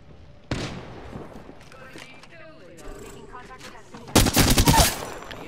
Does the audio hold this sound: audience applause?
no